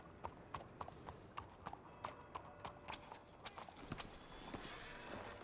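Horse hooves clip-clop in the WildRP Red Dead video game, a steady run of close, distinct knocks over a soft ambient background, with no talk.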